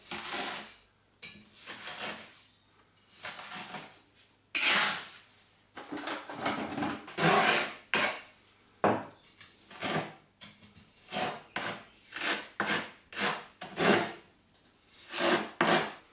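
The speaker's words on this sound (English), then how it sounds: "you can cut away any excess mortar using a small trowel" A small trowel scrapes away excess mortar around a newly set shower tray in a run of short, irregular scraping strokes separated by quiet gaps, close and fairly soft.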